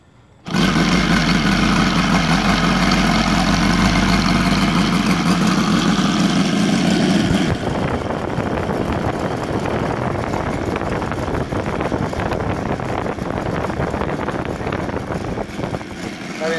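An OS Sirius 7 FR7-420 seven-cylinder radial engine, converted to run on gasoline with CDI ignition, idles loudly and continuously nearby; its steady throb drops to a softer, rougher idle partway through.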